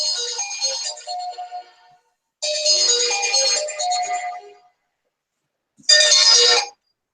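A phone ringtone plays an incoming call in three loud bursts, each a second or two long, separated by short silences.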